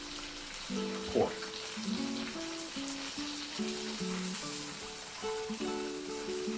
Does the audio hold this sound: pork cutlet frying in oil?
yes